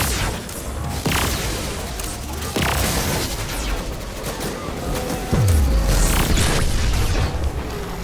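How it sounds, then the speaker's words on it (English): An exotic weapon in Destiny 2 fires repeatedly with heavy booming shots, separated by sharp cracks and a deep low thump partway through, loud and alone with no talk over it. "And for you audiophiles, here's what the weapon sounds like without me yapping."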